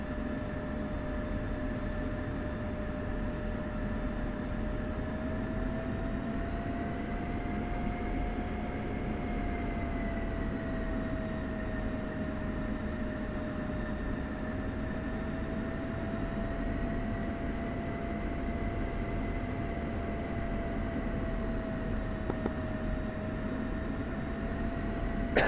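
F-16C jets taxiing in the DCS flight simulator, a steady loud turbine whine and rumble with a sustained tone that rises and falls slightly, continuous throughout with no talk.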